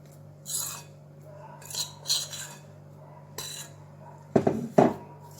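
A metal spoon scrapes and spreads a dense semolina basbousa mixture across a baking pan, giving a few soft, close scraping strokes and a couple of louder clinks against the pan near the end.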